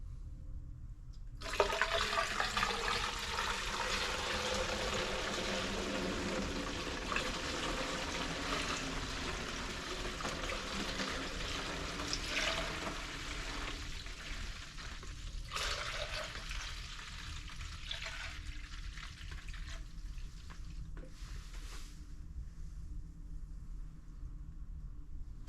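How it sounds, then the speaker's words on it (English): Coolant gushes and splashes steadily into a jug for about fifteen seconds, then tapers into a few brief trickles and gurgles before stopping. "pour it into this jug."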